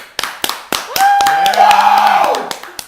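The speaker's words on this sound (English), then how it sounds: "Now let's get a round of applause for Gulliver." A studio audience at a talk-show-style event claps in a round of applause, starting with a few scattered claps and swelling into a steady burst; a held musical tone sounds over it.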